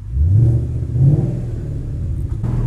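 A Ford Mustang GT 5.0 V8 accelerates hard in fifth gear, its deep engine note climbing in pitch twice in quick surges before settling into a steady rumble, heard close from inside the car.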